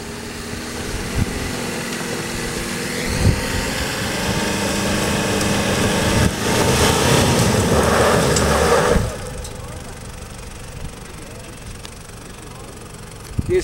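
An engine runs with a steady, knocking rumble, swelling louder in the middle before dropping back to a quieter idle. Faint voices are heard alongside it.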